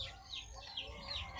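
Soft, faint clucking from a chicken nearby, a few short calls in quick succession over quiet background.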